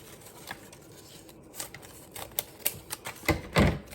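Scissors snip around the sides of a homemade cardboard tissue holder or gift box, a sparse series of sharp clicking cuts that grow louder and more frequent toward the end, with no voice over them.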